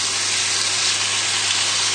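Steaks sizzle loudly and steadily in a hot pan, a dense continuous hiss of frying that runs unbroken without any talking.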